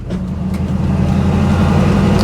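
A 1968 Pontiac Firebird with power brakes and manual drums pulls steadily after a downshift, its engine a loud, continuous low rumble with a strong even drone and road noise throughout.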